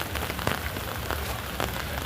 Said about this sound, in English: I can see my microphone levels peaking, largely due to the raindrops on my umbrella